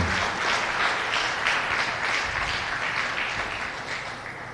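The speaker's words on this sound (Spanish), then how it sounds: "Brinde el mejor de sus aplausos al Dios" Church congregation applauding during a sermon, a broad sustained roar of many hands clapping with a faint voice underneath, holding steady before easing slightly toward the end.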